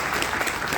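Audience applause at a motivational talk in Bihar, a short dense burst of clapping filling the whole moment.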